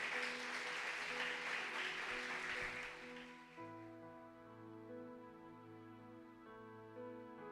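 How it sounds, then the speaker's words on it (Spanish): Church congregation applauding during a Spanish-language Bible study sermon, a loud burst of clapping that fades after about three seconds as sustained organ or keyboard chords take over. "Dale un fuerte aplauso al Señor."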